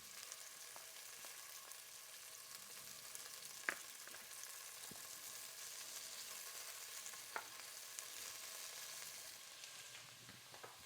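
Beef sizzles steadily in hot oil in a pan for a beef bourguignon, a continuous close crackling hiss with a few sharper pops and stirring clicks, no voices.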